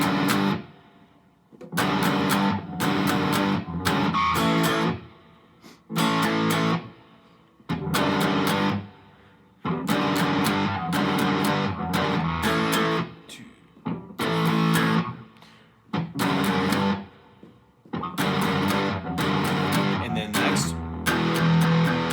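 Electric guitar riff played through a distortion effect, loud and sustained in repeated bursts of chords with short gaps between phrases, filling the whole stretch without talk.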